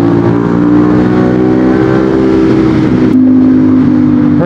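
A 400cc motorcycle engine holds about 6,000 RPM in fourth gear, producing a loud, steady droning whine that shifts pitch slightly partway through and continues without a break.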